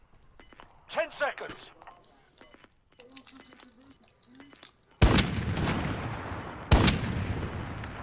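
Semi-automatic gunfire in a shooter video game, loud sharp bursts in the final three seconds after quieter stretches with people talking and laughing.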